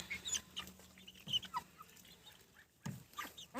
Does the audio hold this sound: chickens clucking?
yes